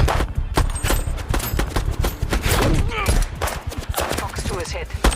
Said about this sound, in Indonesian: Sehingga aksi baku tembak pun terjadi.